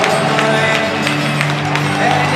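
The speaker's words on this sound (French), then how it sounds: "les partisans du Blizzard qui applaudissent leur équipe" Junior hockey crowd applauding after the Metalfab Cup final game between Yarmouth Mariners and Edmundston Blizzard, a dense steady clatter of many hands in an arena beneath a commentator's voice.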